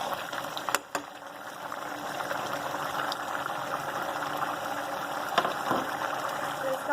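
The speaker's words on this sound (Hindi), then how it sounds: "मैं तेज़ आंच पे इसको उबाल रही हूँ और इसके पानी को खुश्क कर रही" A pot of chicken pulao water boils hard on a high flame, giving a steady, dense bubbling and hiss throughout with a few sharp clicks near the start.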